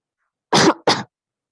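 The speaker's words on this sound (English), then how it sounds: "Sorry about all the coughing." A person gives two sharp dry coughs close to the microphone in quick succession, with silence before and after.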